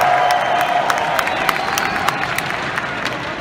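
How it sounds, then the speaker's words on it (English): A large stadium crowd at a CS:GO esports event cheers and applauds in a loud, steady roar, with scattered claps and shouts throughout. "I never played a big stadium like this, so it's really awesome. The crowd's amazing."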